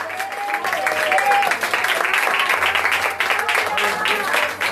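A church congregation at a Sunday service applauds in a continuous broad wash of clapping, loud and sustained, with a voice and some musical tones running underneath.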